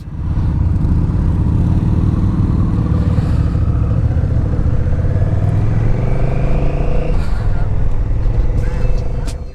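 Motorcycles cruise along the road on a long trip from south central Wisconsin toward southern Tennessee, engines droning steadily and loud close by, with rushing wind and a brief shift in pitch as they ride on.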